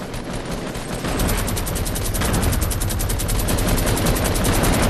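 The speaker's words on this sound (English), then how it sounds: "Minigun time!" Minigun firing in Fortnite during a busy squads match, a loud continuous rapid-fire roar that begins after a second and runs unbroken to the end, with no talk over it.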